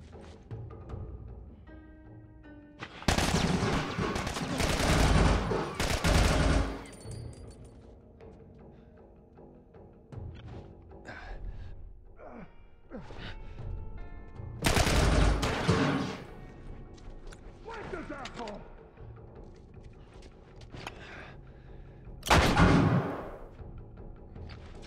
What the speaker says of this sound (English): Assault rifle, now we're talking